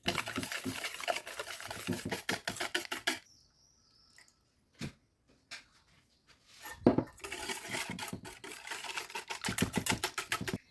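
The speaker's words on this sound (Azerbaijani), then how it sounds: "Keksiklər üçün bir dənə yumurta, 70 qram şəkər tozu əlavə edirik və yaxşıca qarışdırırıq." Egg, sugar, warm milk and oil are whisked together in a bowl for cake batter, with steady rapid scraping and clinking strokes that stop for a quiet pause with a few isolated knocks before the brisk mixing resumes.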